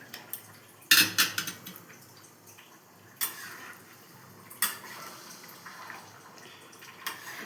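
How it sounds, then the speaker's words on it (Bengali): Chicken pieces and potatoes being stirred into water in a cooking pot, with several sharp metallic clinks of a spoon against the pot and softer scraping and sloshing between them, close and fairly quiet. "ভালো করে নেড়ে চেড়ে জলের মধ্যে মাংসের পিসগুলো, আলুগুলো মিশিয়ে দেব।"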